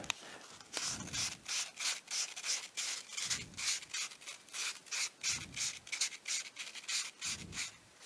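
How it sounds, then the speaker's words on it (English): Abrasive scuffing of a wooden pen blank spinning on a lathe, a steady rubbing hiss pulsing in regular strokes, with low rumbling bursts about every two seconds, close and moderately loud. "Scuff up this thing."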